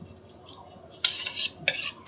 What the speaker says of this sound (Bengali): এই দইটা মিশিয়ে নেবো এবার।